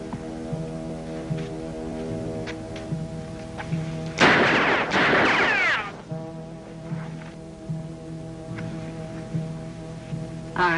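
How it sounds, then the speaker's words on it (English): A burst of gunshots during a sharpshooting exhibition in an Annie Oakley Western show, a loud crack and echoing blast lasting about two seconds over an underlying musical drone, with no speech. "Now you're going to see some real sharp shooting."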